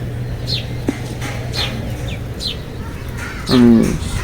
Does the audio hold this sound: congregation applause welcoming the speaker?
no